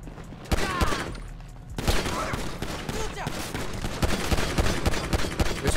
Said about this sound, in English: Just keep shooting until they stop moving.